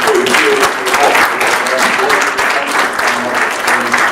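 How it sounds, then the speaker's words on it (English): A congregation claps loudly and steadily in a large room, with a voice calling out faintly over the sustained applause. "Give Michelle another big round of applause."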